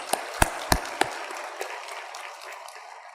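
A church congregation claps in thanks to Jesus, a few sharp, loud claps at the start that quickly thin out into scattered, fading applause.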